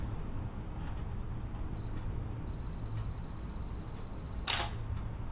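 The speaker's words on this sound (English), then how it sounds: "I have my timer set up for 2 seconds, so I'm going to press the shutter." A single quick mechanical camera shutter click near the end, after a brief high electronic beep tone of a 2-second self-timer, over a quiet hiss.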